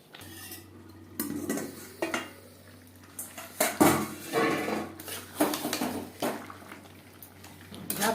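Potato and jackfruit are stirred with spices in a pan for a curry, a utensil scraping and clinking against the metal in repeated near strokes, with a low steady hum underneath.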